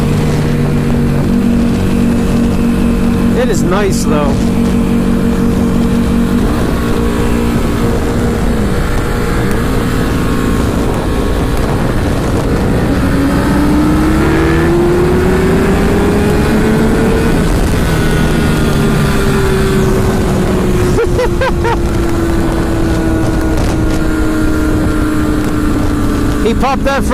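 A nearby Ducati Panigale S motorcycle roars loudly, its engine pitch rising and falling as it revs and pulls away. Strong wind buffets the microphone and someone talks over the noise.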